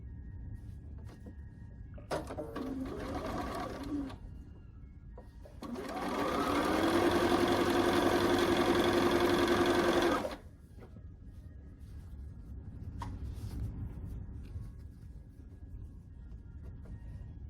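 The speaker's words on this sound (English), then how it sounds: "take the other one with the wide blue piece on, mirror it, flip it over, and sew it" A sewing machine stitches quilt pieces for a Stars and Stripes quilt in one loud, close, continuous run of about five seconds. Quieter handling and shuffling of fabric comes before and after it.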